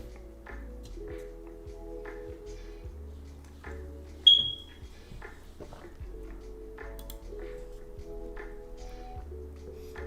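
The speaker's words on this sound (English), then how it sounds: "Change my smoke detector battery," A single short, high chirp from a smoke detector signalling a low battery sounds once, faint against a background of music-like tones and soft thumps.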